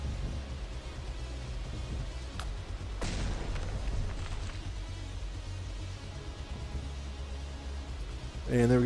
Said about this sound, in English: Chain reaction, explosions continuing in the hull.